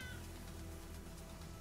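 A cat meows strangely in the motorbike video game Trials Fusion, a short faint call buried under steady, hissing game noise.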